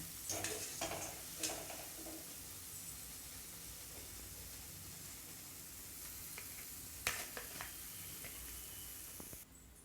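Sweet maida bonda deep-fry in hot oil, a faint, steady bubbling sizzle with a few light clinks and scrapes of a utensil early on and near the end.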